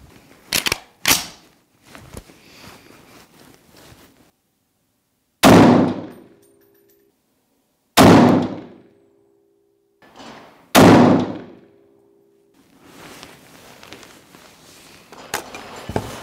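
Three loud, sharp rifle shots from a SIG 751 semi-automatic rifle fired at a target, spaced a few seconds apart, each with a short ringing decay, amid quieter handling clatter and a few light clicks before and after.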